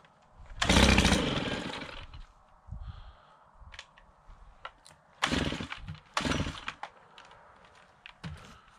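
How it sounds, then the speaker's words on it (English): A gasoline-powered Stihl pole saw engine is pulled to start, giving several loud, irregular bursts of sputtering engine noise between quieter gaps of handling, outdoors in chilly weather. "first up is the gasoline powered Stihl."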